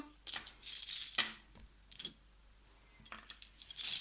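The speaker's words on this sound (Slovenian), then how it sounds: "Kocke primem, pospravim v vrečko." Counting cubes dropped into a bag during a number exercise, producing several close, crisp bursts of clattering and rattling separated by short pauses, with no speech.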